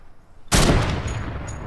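A heavy sniper rifle fires once in Fortnite, a sudden loud, sharp blast followed by a long rumbling decay and faint metallic clinks, coming after a brief quiet moment.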